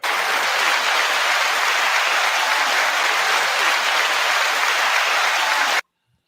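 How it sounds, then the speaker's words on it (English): A studio audience on a hip-hop panel show gives a long, steady round of applause that is loud and even before cutting off abruptly near the end. "9-second applause to Macito"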